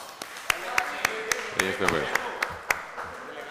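Applause at a plenary session of the Bello municipal council, a sparse scatter of distinct claps from a small group, fairly close and loud, with faint background murmur.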